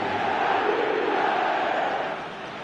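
Stadium crowd in an eFootball 2025 match roaring and cheering as a comeback builds, a broad steady wall of voices that eases off near the end.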